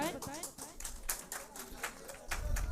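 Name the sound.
audience applause at a mushaira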